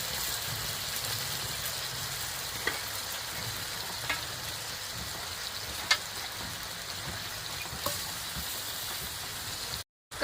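Fish simmering in a spiced masala in a kadhai gives a steady close sizzle and hiss, with a few soft clicks and pops, before it cuts off briefly near the end.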